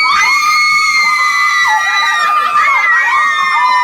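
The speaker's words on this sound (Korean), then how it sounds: "친구 집들이에 참석, 드레스룸을 보고 환호하는 여자들." Several women shriek and cheer excitedly at the sight of a dressing room during a housewarming at a friend's home in a TV ad, a sustained, loud, high-pitched chorus of delighted screams with no other sounds.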